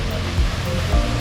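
Waterfall near the Mediterranean coast in Antalya, Turkey, with water crashing down and spray rising on the wind, heard as a steady, full roar of rushing water with two brief surging swells.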